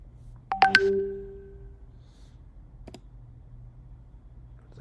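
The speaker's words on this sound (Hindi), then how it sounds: "बीच में मैसेज टक टक आ रहे।" A phone sounds a quick burst of three sharp electronic notification tones in a quiet room, followed a couple of seconds later by one faint click.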